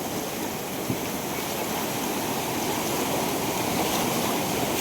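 A river raging in flood after a typhoon: a constant, loud, full-bodied roar of rushing turbulent water, close by and unbroken throughout.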